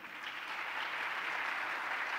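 An audience applauding at a sports panel event, a dense, even wash of many hands clapping from start to end, sustained and fairly loud, with no voices on top.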